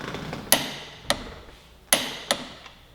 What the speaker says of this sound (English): we're going to torque that steering stem bolt. This is 69 foot-pounds.